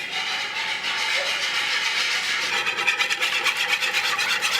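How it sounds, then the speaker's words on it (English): Eight eggs being whisked in a bowl give a rapid scraping, rhythmic swish that grows into quick regular strokes, close and alone. "these eggs look nicely whisked"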